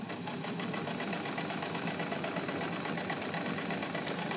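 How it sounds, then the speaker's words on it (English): A restored pink Necchi BU Nora sewing machine runs long straight stitches, giving a continuous fast mechanical whir with an even rapid ticking, close and steady throughout with no voices. "I'm going to come over and, of course, do some straight stitching for you folks. And I'll be starting with long here."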